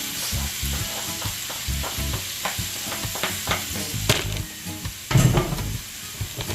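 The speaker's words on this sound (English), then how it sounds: "I'm getting my natural season sauteing in my coconut oil." Sweet pepper, garlic, onion, scallion, thyme, scotch bonnet and carrot sauté in coconut oil with a steady close sizzle, broken by repeated stirring scrapes and a louder burst near the end.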